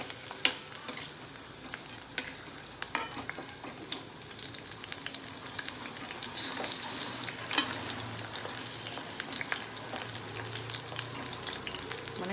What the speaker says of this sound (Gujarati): હવે મરચાં તળવું પછી આ ભીંડાનું શાક વઘારી નાખવું